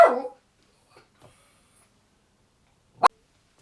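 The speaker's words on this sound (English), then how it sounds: "What? It's just a dog." A single short dog bark rings out loud at the start, followed by near silence, faint small ticks and one more sharp bark near the end.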